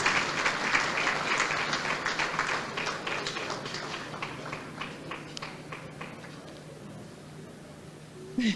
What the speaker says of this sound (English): Please, another round of applause for the Lindos.